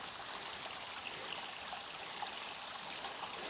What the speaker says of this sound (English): That is the sound of running water.